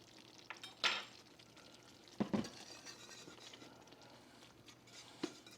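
Chicken bouillon being stirred into an onion mushroom gravy for hamburger steak, a soft steady simmer broken by a few brief spoon scrapes and clinks against the pan, fairly quiet and close.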